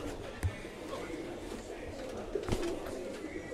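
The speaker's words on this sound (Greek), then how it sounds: "Μπήκα λίγο απότομα και τρομάξανε τα πουλιά." Startled birds, likely pigeons, stir and flutter near a structure where someone walks in abruptly; two sharp bursts of wing noise stand out over a steady low background, with no talking.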